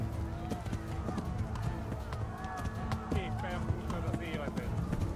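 Horse hooves galloping in the medieval video game Kingdom Come Deliverance, a steady rapid clip-clop rhythm running continuously under game sounds, moderately close.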